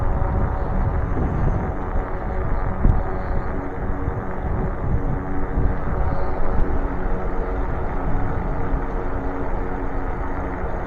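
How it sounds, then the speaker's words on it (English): Strong wind buffets the microphone while riding an e-bike, a constant loud low rumble with gusty swells and no speech. "I don't know if you can hear that wind, but it's strong."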